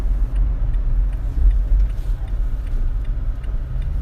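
A car's turn signal ticks steadily and faintly inside the cabin while the driver makes a quick turn, over a constant low road and engine rumble, with no talking.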